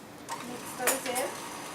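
A spoon stirs salt and vanilla into a batter, giving a few soft scraping and clinking strokes against the bowl over a brief moment.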